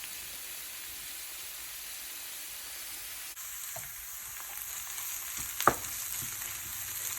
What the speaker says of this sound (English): So I'm gonna saute